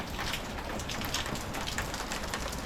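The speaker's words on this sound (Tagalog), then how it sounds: "Kita niyo naman kung gaano kalakas ang ulan." Heavy rain pours down steadily in San Diego, a dense, loud hiss of drops drumming on surfaces nearby, continuous and unbroken with no voices.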